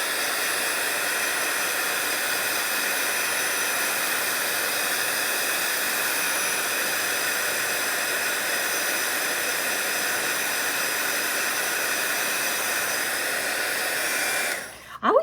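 A hair dryer blows steadily and loudly onto a watercolor floral painting, a constant broadband roar that runs unbroken for about fourteen seconds before cutting off abruptly at the end.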